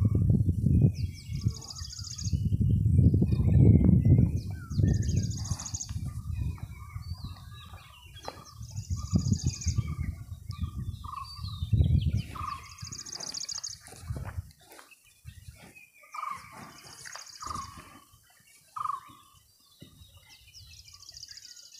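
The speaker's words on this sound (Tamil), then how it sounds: "அந்த கிராமத்தில் இருக்கிற ஆடு மாடுகள், மாடு இல்லை கோழி குருவி இதோட சவுண்டு தான் கேட்குது." Birds in a hilltop village give repeated high chirps at a moderate distance. Chickens cluck and low rustling and knocking noises come and go beneath them.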